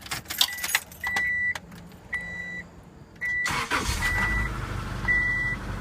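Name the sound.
Subaru engine cold start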